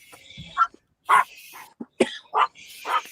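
A dog barks several times in short, sharp bursts spaced irregularly over about three seconds, fairly close, with no one talking.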